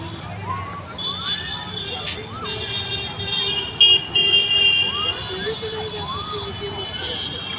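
A blue car passes with short horn toots and warbling, siren-like tones over steady road noise. Voices are faint in the background.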